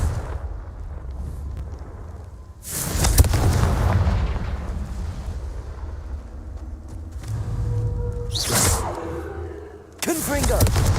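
Confringo spell blasts in Hogwarts Legacy: three loud, booming explosions with long rumbling tails, spaced several seconds apart over a steady low background rumble.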